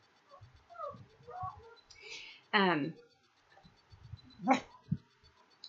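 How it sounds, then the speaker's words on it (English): Several dog barks and yelps, fairly close, in short uneven bursts with a quiet pause between them. "my dogs are barking."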